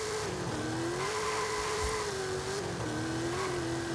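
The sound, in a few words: car engine accelerating at launch in Forza Horizon 5 video game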